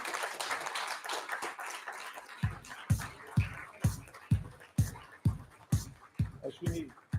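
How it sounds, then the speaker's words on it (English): An audience at an ICT business awards ceremony gives scattered applause that turns into slow, evenly spaced rhythmic claps, with voices speaking over it. "Let's all stand up and give him a big applause."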